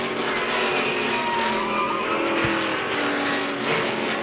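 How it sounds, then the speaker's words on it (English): NASCAR Camping World Truck Series race trucks crash at Kentucky, with loud, steady racing engine roar and tire skidding throughout, plus a brief low thump midway. "it resulted in a crash down to turn 3"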